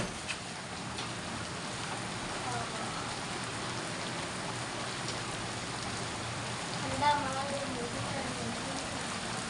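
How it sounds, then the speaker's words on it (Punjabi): Steady rain patters continuously on surfaces, a dense wash of drops at moderate volume with no clear voices over it. "ਬੁਲਬੁਲਿਆਂ ਵਾਲਾ ਮੀਂਹ ਪੈਣ ਦਿਆ ਬੁਲਬੁਲਿਆਂ ਵਾਲਾ"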